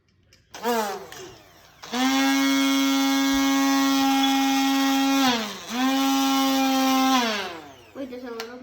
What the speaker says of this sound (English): Let's grind it.